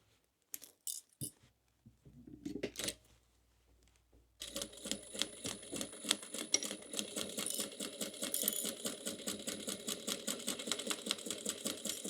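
After a few scattered clicks and handling noises, a sewing machine starts stitching a boxy bag, a fast rhythmic mechanical clatter that runs steadily and close for the last eight seconds.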